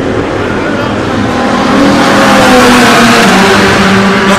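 Porsche race cars at the Le Mans 24 Hours test day roar past, a loud sustained engine drone that swells and shifts pitch as they pass, with people speaking nearby.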